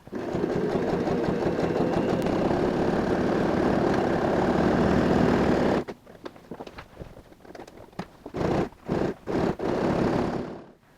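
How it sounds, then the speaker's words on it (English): A sewing machine runs a fast, continuous buzzing top stitch beside a leather handbag seam for about six seconds, then stops and gives several short bursts of stitching. "I'm going to go and sew a top stitch on either side of the seam join."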